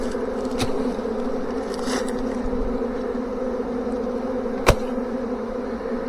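A large honey bee swarm hangs on a trap, buzzing in a dense, steady drone up close as bees fan scent at the board, with a couple of sharp clicks or taps breaking through.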